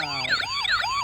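A toy police Lamborghini's electronic siren wails loudly and close, sweeping up and down in quick repeating rises with no voices over it.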